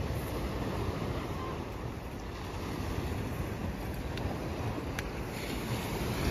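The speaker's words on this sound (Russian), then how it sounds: "Ну вот всем охота, чтобы волна окатила." Sea waves washing ashore on the Odessa coast, a steady broad rush of surf and water with wind noise on the microphone, close and continuous.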